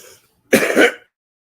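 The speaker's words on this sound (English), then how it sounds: "Let me clear my throat." A single short, gruff throat clearing, close and loud, after a brief trailing sound, then silence.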